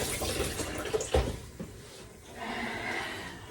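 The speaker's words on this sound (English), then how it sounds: "Just rinse them out. Give them a good rinse. Critical for lentils." Lentils rinsed under a running kitchen tap, with water splashing and rushing close by in uneven bursts that ease into a softer steady flow.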